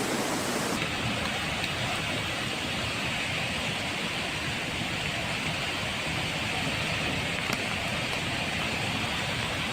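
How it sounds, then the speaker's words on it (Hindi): Rushing monsoon floodwater in the hills sweeps down mud and trees, making a continuous loud, broadband roar that stays steady and unbroken, with no voices. "पानी का इतना तेज बहाव होता है कि अपने साथ मिट्टी,"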